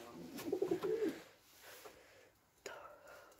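A pigeon gives a low, rolling coo nearby, followed by quiet breathy sounds and a faint click in a calm setting.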